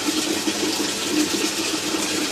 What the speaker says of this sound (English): The automatic siphon, bell siphon.